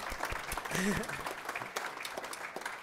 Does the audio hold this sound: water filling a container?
no